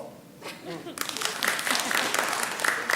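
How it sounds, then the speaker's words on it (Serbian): An audience at a stand-up comedy show breaks into applause, building within a second to a dense, loud wash of clapping that holds steady, with a voice talking faintly underneath at the start. "Aplauz."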